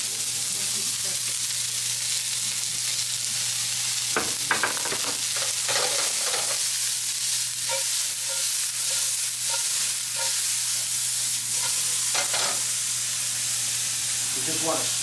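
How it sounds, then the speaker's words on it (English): Onions sizzle in a hot pan at an Italian cooking demo, a constant bright hiss with intermittent stirring scrapes and crackles, loud and close throughout. "Onions are going in."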